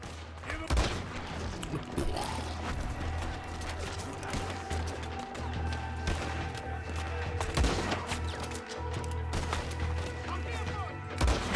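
Repeated gunfire bursts in a video game during a robbery, scattered sharp shots over steady background engine-like hum, with people talking over voice chat throughout.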